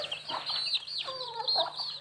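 Domestic chicks with clipped wings peep and chirp continuously in a brooder, several high calls overlapping at close range with no talking.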